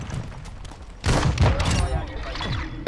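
Shotgun fire in Call of Duty: after a quieter second, a loud close blast bursts out and is followed by ringing gunfire and busy combat noise that lasts to the end.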